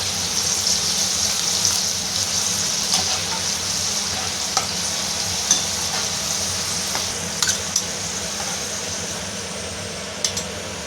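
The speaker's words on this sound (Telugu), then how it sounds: "ఈ వెల్లుల్లి అనేది ఆయిల్లో వేసుకోవాలి ఫ్రెండ్స్" Garlic drops into hot oil for a gongura pachadi seasoning and fries with a loud, continuous hiss and crackle, broken by a few sharp pops and spits.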